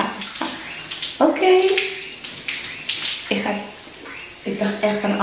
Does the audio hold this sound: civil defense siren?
no